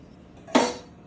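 A utensil stirring fish curry in a pot gives a single sharp clink against the metal, close and clear, with quiet room tone before and after.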